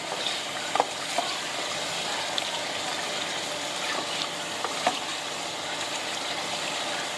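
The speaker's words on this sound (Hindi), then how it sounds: "खीरी गुर्दे हमारे अच्छी तरीके से भुन चुके हैं।" Kidneys (khiri gurda) frying in a pan for gurda masala, a steady close sizzle and crackle with occasional small pops and stirring scrapes throughout.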